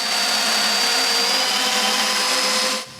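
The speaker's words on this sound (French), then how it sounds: "Je perce un trou dans les deux morceaux" A power drill bores holes through walnut clock frame pieces with one steady, loud, high-pitched motor whine that holds for about three seconds and then cuts off abruptly.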